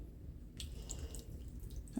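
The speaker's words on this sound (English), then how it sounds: "And then a little bit of purified water" Purified water poured over frozen chicken breast cooking in a pan for taco filling, a soft splashing trickle that begins midway and runs steadily to the end, fairly faint over low kitchen rumble.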